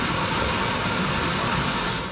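A CNP PM370S pressure-controlled water pump motor runs close and loud, a dense continuous whirring hum that holds steady for the whole stretch with nothing else heard.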